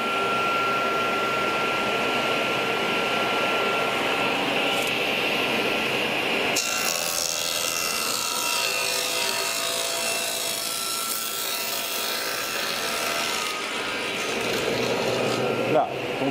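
A circular saw rasps steadily through a wood panel on its final cut, a loud continuous grinding whine that holds for the whole stretch and shifts in tone partway through.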